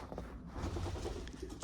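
Young racing pigeons coo softly inside a loft, low murmuring calls layered over a faint background hum, fairly quiet and close, with no talk.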